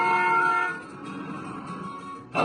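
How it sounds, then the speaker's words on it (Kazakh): A car horn gives a single sustained, fairly loud honk lasting about two seconds, standing alone. "Автокөлік,"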